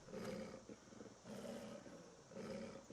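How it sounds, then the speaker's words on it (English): An Alpha Wolf, a bigger variant of the Ice Wolf in a game mod, growls in three rough, throaty rumbling pulses with short gaps between them. The growls are fairly soft and sound close. "So I've included the Alpha Wolf."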